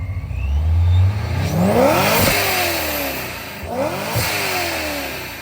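Car with an A&A supercharger and 50mm blow-off valve revving hard twice, engine whine sweeping up and dropping with each blip, loud and close with no talking.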